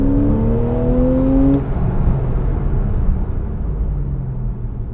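A Porsche 911 (991) Carrera 4S engine pulls hard in comfort mode, a loud rising drone from the cabin that climbs, then eases off into a lower steady rumble.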